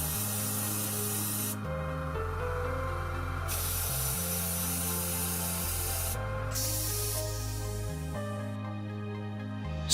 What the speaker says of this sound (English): Spray in dust-free area.